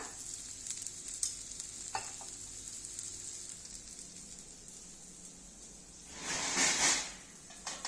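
A vegetable dosa fries in ghee on a pan, giving a soft, steady sizzle close by. A louder hissing surge swells near the end and then fades back.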